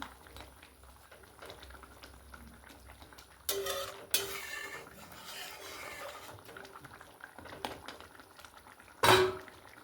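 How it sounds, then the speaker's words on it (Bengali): Prawns (mocha chingri) drop into boiling gravy for a malai curry made without coconut milk, a steady bubbling simmer with utensil clatter, bursts of splashing and stirring around the middle, and a sharp metallic clink near the end. "ঝোল ফুটে গেছে, এবার মাছগুলো দিয়ে দিচ্ছি। মোচা চিংড়িগুলো দিয়ে দিলাম।"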